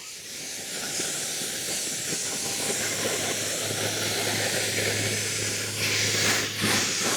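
A hose sprays water to rinse a car before sealant goes on, making a continuous, even hiss with no talking.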